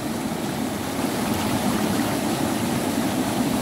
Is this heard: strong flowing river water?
yes